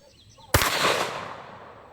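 A single loud gunshot from a 500 Magnum revolver, a sharp close blast after a quiet moment, followed by a long echoing decay.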